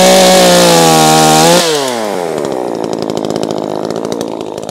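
A Fuxtec chainsaw cuts through a walnut branch during summer pruning: a loud, steady engine whine at high revs, dropping in pitch as the chain bites into the wood and labours with a rough, buzzing drone.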